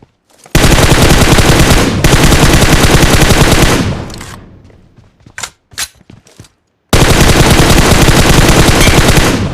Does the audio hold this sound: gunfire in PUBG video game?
yes